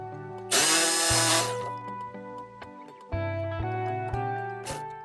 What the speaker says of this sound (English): Well, we've got the power tools out.